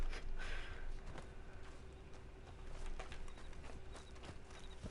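Hooves clip-clop in a steady, fairly quiet walking rhythm over a low background hum, with faint bird calls now and then.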